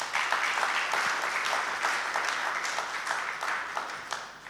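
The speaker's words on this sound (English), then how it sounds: "Let's give Victor another round of applause." An audience at a professional development event and AI launch claps in sustained, dense applause, loud and close, with no pauses.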